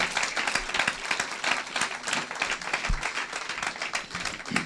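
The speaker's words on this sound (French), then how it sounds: "Quelqu'un peut encore acclamer très fort son Dieu" Church congregation applauding and cheering in praise of God during a sermon, a dense, steady wash of clapping hands and scattered shouts that carries on evenly throughout without letting up.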